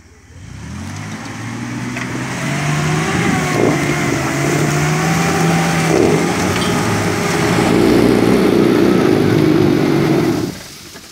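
A car engine revs steadily and climbs in pitch as the car drives up onto a bank in Koprivshtitsa, loud and close, holding its strain for several seconds before cutting off.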